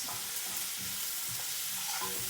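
Onions seasoned with salt sizzle in a pan while being stirred, a soft steady frying hiss broken by light scraping stirs, quiet and close with no voices.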